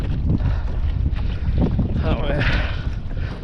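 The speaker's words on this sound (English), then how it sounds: "Oh, this wind is just pissing me off." Strong wind buffets a microphone aboard a sailing dinghy, with steady rushing gusts and water sounds throughout while someone speaks briefly.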